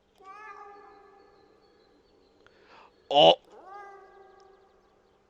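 A drawn-out cat meow, then a sharp loud burst and a short exclamation, followed by another long meow fading out.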